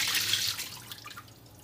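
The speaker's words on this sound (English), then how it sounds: "We're going to go ahead and pour the water off." Water splashes and pours off cooked sweet potatoes briefly, a short rushing spill that quickly thins to faint trickling.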